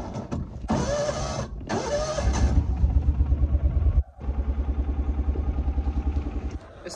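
A Kawasaki Mule utility vehicle is started with the choke pulled on a snowy day, giving loud, rhythmic starter cranking in two bursts separated by a brief pause, with some clatter before it.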